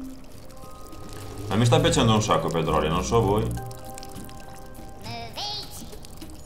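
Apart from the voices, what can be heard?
objects falling into water, Worms Revolution video game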